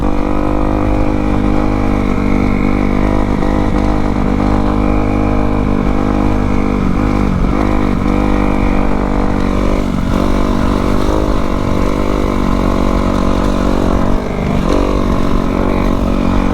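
A Kawasaki KX250 dirt bike is ridden along a back road, its engine droning loud and steady with close rumbling and slight pitch shifts as it holds speed, plus wind buffeting.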